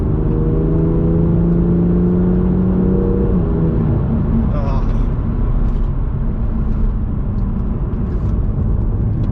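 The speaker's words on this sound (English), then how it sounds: "Tab of the brake, back on the throttle for an chicane, downshift for the straight." Car engine sound as the driver brakes, comes back on the throttle and downshifts through a chicane: a steady engine tone that drops at about three seconds and gives way to a rougher, continuous rumble, with a voice talking throughout.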